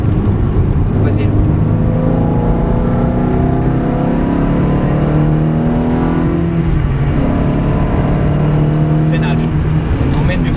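A Ferrari 360 Modena F1 engine drones and revs loudly and continuously up close on the Mettet circuit, its pitch rising and falling, with a voice talking over it.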